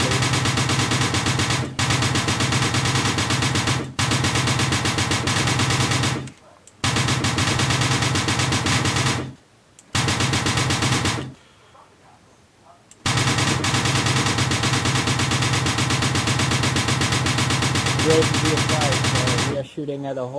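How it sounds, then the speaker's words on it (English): Rapid automatic gunfire rattles in long, dense bursts during a video game battle against enemies, broken by a few short pauses, with voices underneath. "Shooting at a whole load of enemies near your vicinity, over"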